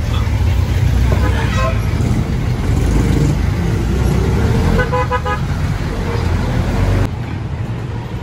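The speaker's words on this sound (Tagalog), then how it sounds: "Tayo natin yung jeep na yan." Jeepney ride through busy Manila street traffic, a loud continuous rumble of engines and road noise with repeated horn toots, while people talk over the din.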